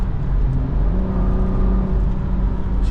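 BMW F30 with loud aftermarket downpipes accelerating, heard from inside the cabin as a steady low engine drone and rumble with a rising whir, loud and continuous, no talking.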